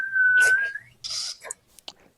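A woman whistles a single sustained, slightly wavering note up close, followed by soft breathy whispers and small mouth sounds in a quiet room.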